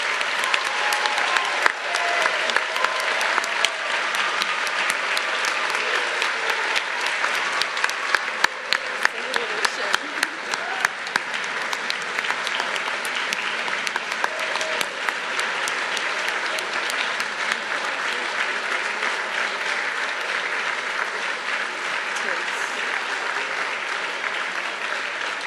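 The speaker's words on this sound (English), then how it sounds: "May we please have a round of applause for our new National Honor Society members." Sustained applause from a large audience at a National Honor Society induction ceremony, steady and dense clapping that carries on for the whole stretch without letting up.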